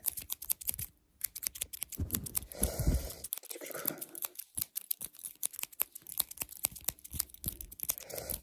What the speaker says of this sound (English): Okay, I'm just snipping them.